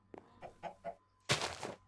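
A chicken in the Minecraft video game gives a few short, soft clucks in a quick series, followed by a louder, harsher squawk, heard alone and fairly faint.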